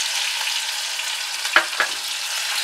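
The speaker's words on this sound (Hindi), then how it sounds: "इसमें थोड़ा सा फ्राई होने देंगे अच्छे से" Garlic, green chili and ginger frying in already hot oil for a Jamaican brown stew chicken: a steady, close sizzle throughout, with two brief stirring clatters near the end and no talking.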